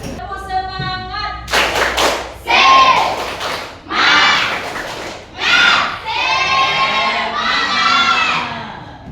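Classroom of students doing a rhythmic group clapping chant, bursts of patterned claps alternating with loud shouted cheers and voices, close and energetic over several cycles.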